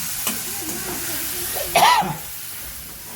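Onion, chilli and tomato sizzle as they are tempered with asafoetida in hot oil, a soft frying hiss with stirring and a brief louder burst midway, faint voices nearby.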